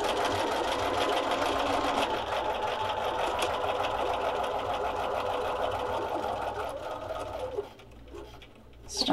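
A sewing machine with an open-toed foot stitches cross-stitch fabric in a fast, even mechanical whir that runs close and steady, then stops briefly near the end.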